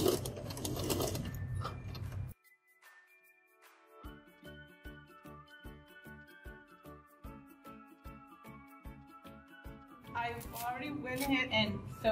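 A sewing machine stitches Velcro onto a fabric shopping cart cover, running in a steady rapid mechanical chatter nearby, with a voice talking before and after the stitching.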